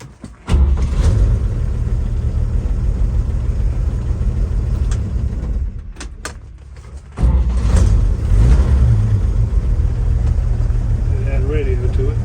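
A 1954 Chevrolet truck's original six-cylinder engine, with a floor-mounted starter button, turns over and runs as a loud, steady low rumble. It dips briefly midway, then surges back up just as strongly.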